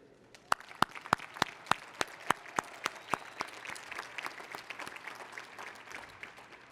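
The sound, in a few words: graduation ceremony audience applause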